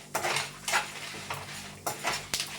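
A spoon stirs and mixes red chillies in a pan while making gongura pachadi, with repeated scraping strokes about every half second against faint sizzling, close and fairly quiet.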